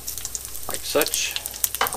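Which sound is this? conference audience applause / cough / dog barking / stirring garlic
stirring garlic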